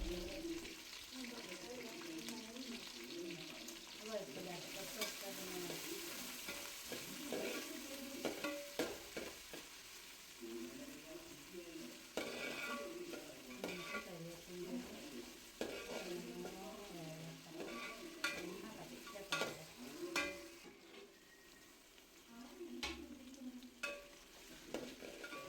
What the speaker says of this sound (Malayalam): നമ്മൾ ഇഞ്ചി, വെളുത്തുള്ളി, പച്ചമുളകൊക്കെ അരിഞ്ഞത് ഒന്നിച്ച് തന്നെ അതിലേക്ക് ഇട്ട് കൊടുക്കുകയാണ്